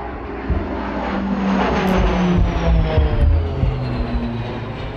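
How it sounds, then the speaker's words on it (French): Royal Canadian Air Force airplanes fly overhead above a funeral home in Moose Jaw, a steady loud engine roar that swells gently and stays continuous throughout, with no talking. "Deux avions de l'aviation royale canadienne ont volé au-dessus d'une maison funéraire de Moose Jaw hier."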